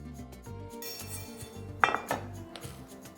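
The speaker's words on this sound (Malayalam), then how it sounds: "പരിപ്പ് റോസ്റ്റ് ചെയ്തിടാം." Lentils (parippu) dry-roasting in a pan, heard as close clinks and scrapes of a utensil against metal cookware, with one sharp clank near the middle over a low background hum.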